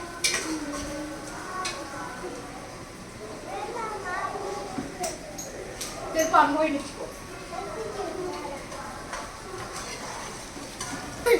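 Tomatoes sautéing in a pan for egg biryani, a soft continuous sizzle with intermittent stirring scrapes and clinks, partly under a person talking in the background.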